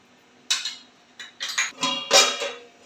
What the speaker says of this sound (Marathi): एक अर्धा मिनिट मी याच्यावर झाकण ठेवते